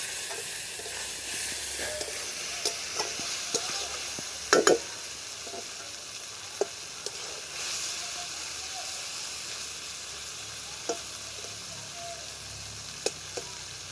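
Masala spices fry in oil in a pan for paneer, a steady close sizzle and hiss with occasional sharp crackles and stirring clicks throughout.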